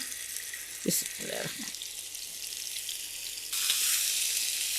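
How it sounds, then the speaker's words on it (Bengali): Fish frying in a little oil in a pan, a soft continuous sizzle with a couple of brief clatters early on and a louder burst of hissing near the end. "এখন মাছগুলো ভাজতে আমি চলে আসলাম প্যানে কিছুটা তেল দিয়েছি"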